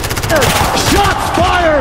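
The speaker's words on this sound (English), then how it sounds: "Shots fired!" Rapid automatic gunfire rattles in a Call of Duty match, loud continuous bursts with voices talking over them.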